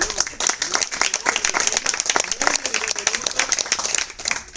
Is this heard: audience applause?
yes